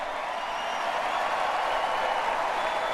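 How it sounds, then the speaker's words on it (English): A large crowd at a political speech applauds steadily, a dense wash of clapping with some cheering blended in, loud and continuous throughout with no pauses. "listen to the excitement in the crowd after hearing that message"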